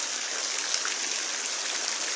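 Heavy rain falling in a steady, even hiss, continuous and fairly close, with no voices over it.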